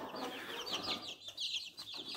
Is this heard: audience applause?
no